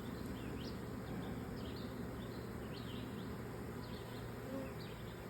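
A dense, steady hum of many honeybees from a swarm being boxed into a hive buzzing close by, with occasional individual buzzes rising above the drone and faint birdsong in the background.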